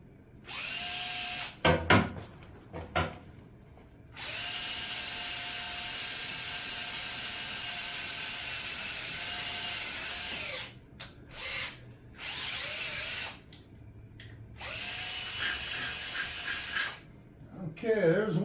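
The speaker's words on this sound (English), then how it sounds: "Gonna drill these holes." A power drill whines in long steady bursts while drilling holes in a motorcycle gas tank, stopping and restarting several times, with short clunks between runs.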